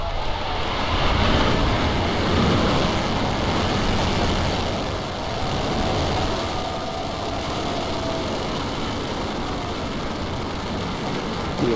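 SpaceX Falcon 9 rocket lifting off on the Dragon CRS-19 resupply launch, a continuous deep rumbling roar that stays broad and steady throughout, heard alone without voices.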